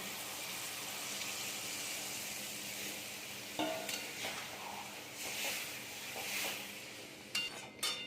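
Water is poured into a pan of small-fish curry (chochchori) as it simmers. A soft, steady sizzling hiss is broken by a few brief splashing bursts; no one speaks.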